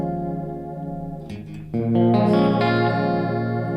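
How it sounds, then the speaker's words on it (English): Electric guitar run through a delay pedal dialed to a chorus sound, notes ringing with a shimmering, doubled wobble; a fresh strum near the middle brings a louder, brighter chord that sustains with echoing trails. "So it's really nice if you want to get a chorus sound."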